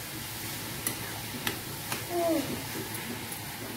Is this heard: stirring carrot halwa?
yes